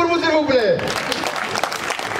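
Audience at a live poetry and humour show breaking into applause, a dense wash of clapping that follows a short spoken voice and fills the rest of the moment.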